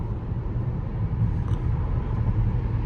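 BYD Atto 3 electric SUV, 204 hp, accelerating on the road: a steady, muted low rumble of tyres and drivetrain from inside the cabin, even and unbroken, with no talking.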